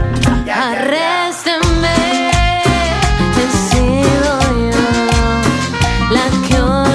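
A cumbia song playing loudly and continuously, with a woman singing over the rhythmic band accompaniment.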